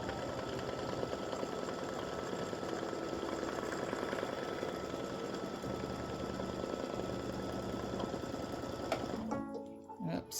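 An embroidery sewing machine stitches an in-the-hoop mug rug with a Valentine heart design, a steady, fast needle chatter running loud and close for most of the span, then stopping near the end as the bobbin thread runs out.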